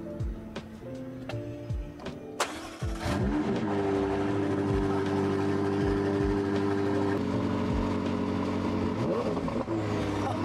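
A loud engine revs up and then holds a steady, throbbing roar close by, with a brief lull before the revving returns.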